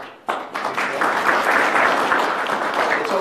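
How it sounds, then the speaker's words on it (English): An audience at a community meeting on the future of hockey in Glens Falls bursts into steady, dense applause that starts abruptly and holds at full strength, filling the room with many hands clapping together. "It's okay to applaud the politicians"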